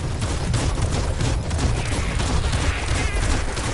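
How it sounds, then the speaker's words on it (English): Loud, dense gunfire barrage in the video game Biomutant, rapid overlapping shots forming a continuous roar for several seconds, close and without talk. "Bullets everywhere."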